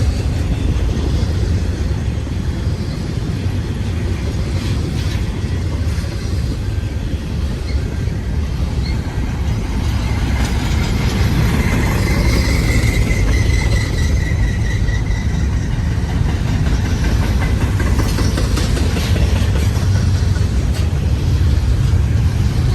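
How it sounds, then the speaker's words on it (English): A long BNSF freight train rolls past at steady, loud volume for the whole stretch, a continuous rumble of wheels and cars with a brief high squeal rising in the middle, no voices. "It's a long train."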